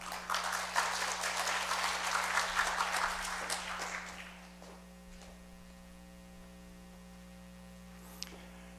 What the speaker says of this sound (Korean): 나오실 때 박수로 환영해 주셨으면 좋겠습니다